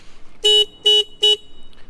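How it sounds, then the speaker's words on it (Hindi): Three loud, short horn honks from a 2022 KTM RC 390 motorcycle in an even rhythm, bright and buzzy, close by with quiet gaps between. "horn is decent, like KTM का है"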